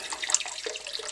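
About eight ounces of water poured into a Blendtec blender: a close, steady splashing stream with small bright spatters, continuous for the whole moment, with no voices.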